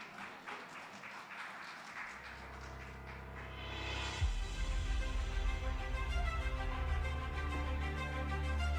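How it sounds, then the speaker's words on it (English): An audience at a teachers' association annual conference awards ceremony breaks into applause, starting faintly and swelling into sustained, fairly loud clapping that continues to the end. "Let's give him a round of applause."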